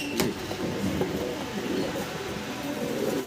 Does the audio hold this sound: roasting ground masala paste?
no